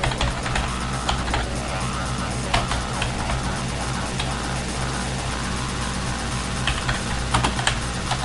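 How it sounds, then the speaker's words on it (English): Commands are typed steadily on a computer keyboard, giving continuous close clicking keystrokes over a constant low background hum. "we're going to type in what's written on the site, hitting enter at the end of each line"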